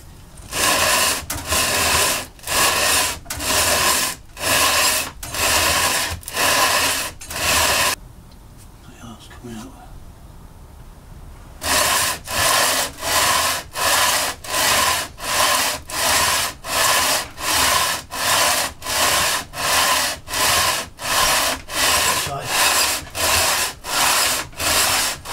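Rhythmic back-and-forth sanding of a MK2 Golf GTI cylinder head with 120-grit sandpaper, loud close strokes about twice a second, pausing briefly midway before resuming steadily.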